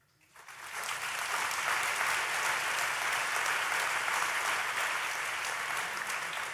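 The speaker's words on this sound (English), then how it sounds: "please give a warm applause to Divine Fu" Warm audience applause at an academic conference opening roundtable, rising quickly from near silence into a full, steady clapping that holds at a constant level throughout.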